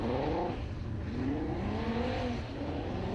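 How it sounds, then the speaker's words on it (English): A Mark II Golf race car fitted with R32 running gear roars around a circuit, its engine note rising and falling as it revs through a corner, loud and continuous with no voices. "That glorious sounding Mark II Golf with the R32 running gear in it is up front"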